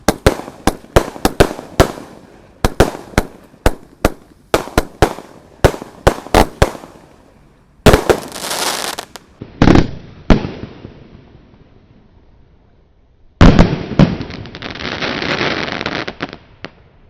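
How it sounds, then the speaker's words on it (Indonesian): Jumbo firecrackers and Roman candle fireworks set off at night, a rapid string of sharp loud bangs followed by longer crackling, hissing bursts and distant pops. "eksperimen menyalakan semua mercon dan petasan jumbo"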